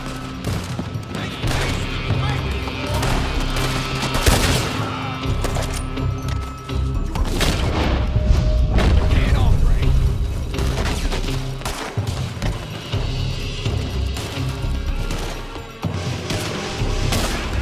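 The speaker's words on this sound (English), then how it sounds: "They're shooting from that building!" Heavy gunfire pours from a building in Red Dead Redemption 2, dense volleys of rifle and pistol shots cracking repeatedly over the whole stretch, loud and close, with voices faintly underneath.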